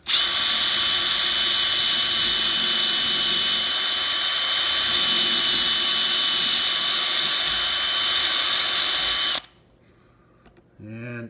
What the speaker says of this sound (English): I just start drilling the hole